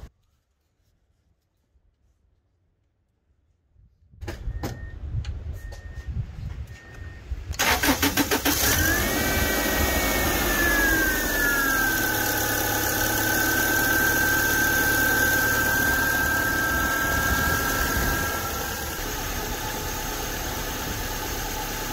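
A 1993-1999 second-generation Subaru Legacy Outback engine cranks and catches, revving briefly with a rising whine before settling into a steady idle that runs on to the end.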